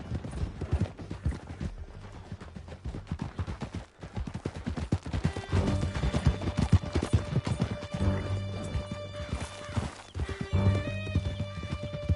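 Horses gallop away in a rocky canyon, hooves clip-clopping in a steady, driving rhythm with loud neighs and whinnies breaking through, while a few distant gunshots crack behind them.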